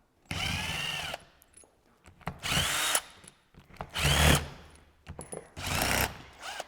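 A power tool removes the last bolt from a Ford tractor hydraulic piston pump, sounding in four loud, close bursts of whirring, separated by short pauses.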